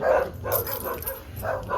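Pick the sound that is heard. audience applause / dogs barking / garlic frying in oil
dogs barking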